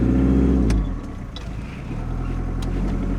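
A farm tractor pulls away onto a road, its engine loud and low at first, then dropping and easing before building back into a steady mid-pitched drone with a few clicks and knocks.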